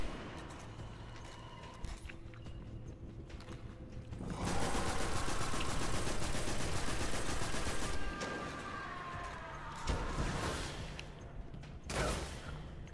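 Sustained loud automatic weapon fire in the Destiny video game, a dense buzzing stream of rounds lasting several seconds, then shorter bursts after pauses over a background of game ambience.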